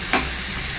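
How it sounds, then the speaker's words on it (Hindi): Tadka for dal sizzles as it is fried in a small amount of oil. A short, sharp hiss flares up and settles into a soft, steady frying crackle, close and without talk. "ऑल्सो गाइस साथ में तड़का लग रहा है"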